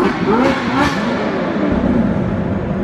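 A supercar, a Lamborghini Aventador SVJ, revs hard inside an enclosed parking garage, its engine note rising and falling in two quick swells before settling into a loud, echoing drone.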